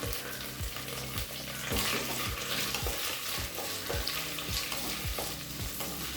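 Sliced onion sizzling in hot oil with bay leaves and mint in a cooker, a steady crackling fry broken by repeated scraping strokes of a stirring spoon.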